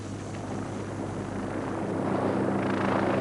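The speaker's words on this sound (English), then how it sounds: "Helicopters were used as well, to clear the decks and allow the boats to keep fishing." A helicopter working over crayfish fishing boats drones steadily nearby, its rotor and engine noise holding loud and even throughout with no voices.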